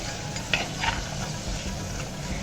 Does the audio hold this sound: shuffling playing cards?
no